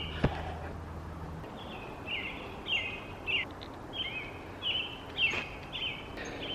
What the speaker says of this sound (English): I don't know if you guys can hear the birds, but they're just making beautiful songs